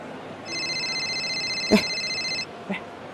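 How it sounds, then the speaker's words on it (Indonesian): A telephone rings indoors with a steady electronic trill lasting about two seconds, accompanied by a brief knock and a small clunk. "Ada yang nelfon."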